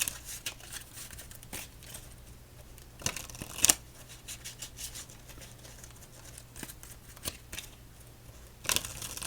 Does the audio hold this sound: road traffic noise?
no